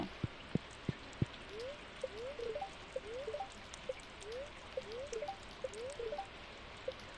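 Rain falls in a video game, with scattered soft drips and taps over a faint wash, plus repeated short chirping tones and a few sharp clicks near the start.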